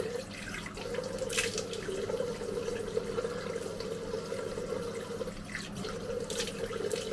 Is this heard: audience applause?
no